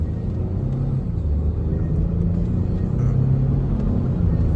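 A Lincoln Navigator builds speed under acceleration, a steady, loud low engine and road rumble heard from inside the cabin, swelling slightly toward the end with no talk.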